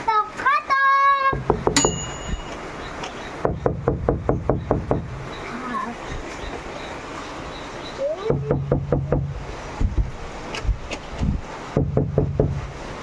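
Knuckles rap on a door in quick bursts of several knocks, repeated over and over with short pauses, loud and close, at a birthday celebration; a voice and another voice speak near the start.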